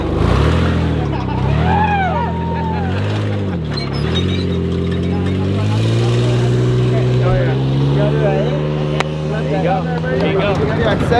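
A Baja 1000 race truck pulls away from a desert pit stop at night, its engine revving up and down before climbing into a sustained, loud drone, with voices over it.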